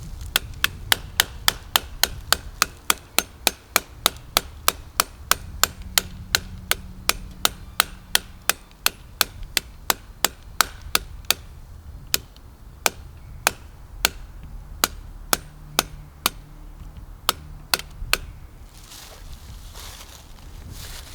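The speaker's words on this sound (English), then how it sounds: "This is where red dots get to go and get beaten like a hammer hitting a nail." A red dot sight, the Gowutar EP-20 enclosed acro optic, struck repeatedly against a tree: about forty sharp, hard knocks at a steady rhythm, close and loud, with short pauses near the end and no talking.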